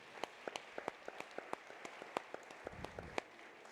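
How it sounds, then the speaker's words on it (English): Sparse clapping from an audience at an executive luncheon, a few distinct hand claps spaced out over a quiet room, fairly faint and thin rather than a full ovation. "let's give them a round of applause as well"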